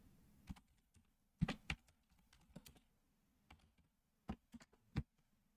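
Keys on a computer keyboard are tapped in short, scattered bursts while data is entered into a spreadsheet, with crisp, close clicks separated by quiet pauses.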